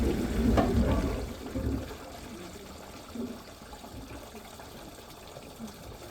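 Water runs and splashes during a plumbing leak test at a home with a blackening wooden floor, a louder gush at first settling into a steady, moderate flow with faint voices in the background.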